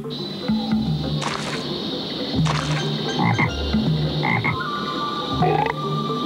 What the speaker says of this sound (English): Even if you're a green tree frog